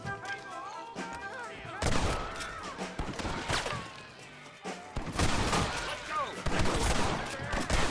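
Gunfire bursts in the Western video game Red Dead Redemption, sharp cracks and volleys clustered in two loud stretches, mixed with game music and voices talking.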